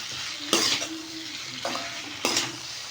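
Brinjal and tomato sauté in a pan, heard as a soft background sizzle broken by three sharp spoon-on-pan stirring scrapes, close by, with no talk.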